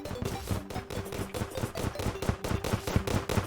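Gun-toting goblins in a modded game (Pinky mod) fire without letup: rapid, evenly spaced gunshot bursts repeat in a steady mechanical rhythm, fairly close and with no voices.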